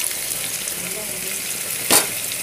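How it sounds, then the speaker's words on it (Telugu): Fried tomatoes in ghee being mixed in a pan, a continuous close hiss of sizzling with a brief louder scrape of stirring near the end. "ఈ రెండు కూడా మిక్స్ చేసుకోవాలి."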